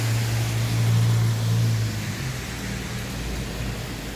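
Heavy rain pours steadily on a summer night in a neighborhood, a dense, loud hiss with a low rumble through the first half, and no voices.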